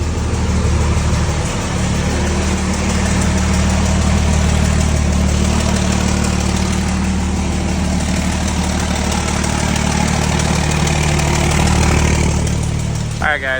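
A 900hp bagged Dodge Hellcat engine idles loudly and close by after its first startup, a deep steady rumble with a lumpy pulse throughout, and voices talk over it.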